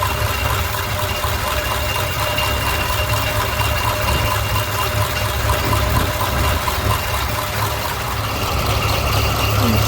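A 1951 Ford F1 truck engine with a newly fitted fuel pump idles smoothly and steadily at close range, a continuous even rumble with no talk over it.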